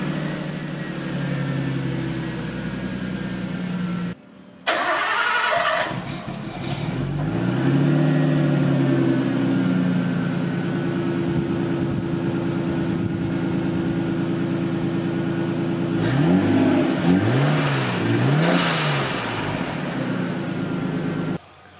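A stock Nissan R32's RB20 engine runs cold, idling steadily, then revs in several rising and falling bursts near the end, loud and close with no talking.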